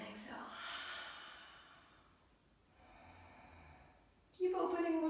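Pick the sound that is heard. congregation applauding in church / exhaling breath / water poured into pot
exhaling breath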